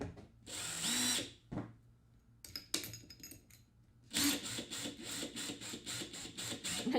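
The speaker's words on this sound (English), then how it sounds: "So now we just have the cross cut to do, so I'm going to use the drill for that" Power drill working through a cross cut in wood, whining in short bursts with pauses and a rattling, pulsing run at the end, close and fairly quiet.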